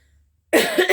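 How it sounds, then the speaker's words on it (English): A single sharp, close cough breaks out after a moment of silence, with a second rougher burst following right after. "Excuse the cough."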